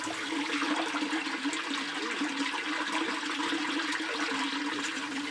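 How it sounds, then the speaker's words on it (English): Water pours from a stone, sand and cement rainwater catchment into the main storage tank in Nkwen, producing a steady, unbroken rushing and splashing that stays at an even level throughout, with no voices. "and the water go down and enter the tank."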